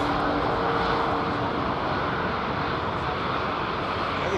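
An Etihad Airbus A380 departs London Heathrow with a loud, continuous, broadband jet roar that stays dense and steady throughout, heard close and overwhelming, with no break in the engine noise.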